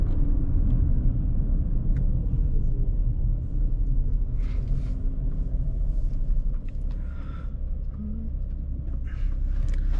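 A Hyundai Azera V6 sedan with 245 hp and 100,000 km drives slowly through city streets, heard from inside as a steady low engine and road rumble with faint higher noises over it.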